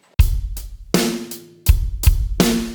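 A drum kit plays a rock beat variation with hi-hat eighth notes over kick and snare hits, loud and close, with sharp separate strikes and short gaps between groups.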